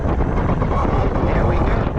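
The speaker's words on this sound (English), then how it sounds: "this is all motor just going" A homemade Predator Wired cruiser e-bike with a Citizencycle kit on 60V running flat out, a loud steady wind-buffeted rushing roar close to the microphone with no breaks.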